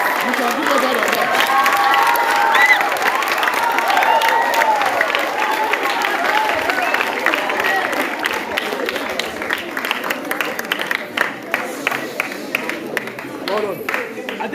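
School audience at a farm awareness event in Badagry clapping and cheering loudly and steadily, a dense crowd roar that thins toward the end with scattered claps and shouts, voices mixed through.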